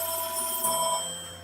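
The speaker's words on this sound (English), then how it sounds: "Sorry about the phone." A telephone rings during a talk about Linux distributions, a steady electronic tone heard at moderate level with no speech over it, holding for about a second before tapering off.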